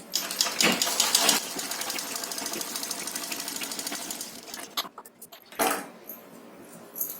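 Sewing machine running steadily while stitching lace onto a one-year-old girl's nauvari saree, a continuous mechanical whir through the first half that eases into pauses and short bursts of handling toward the end.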